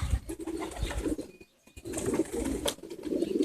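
Pigeons sitting on a roof during a pigeon competition flight coo and shuffle close by, with occasional wing flutters and one brief quiet gap.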